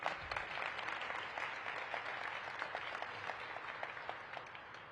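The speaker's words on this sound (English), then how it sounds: "Give them a round of applause." Steady applause from an audience at a mayor's downtown development workshop in Washington, DC, a dense wash of clapping that holds through the whole stretch without voices.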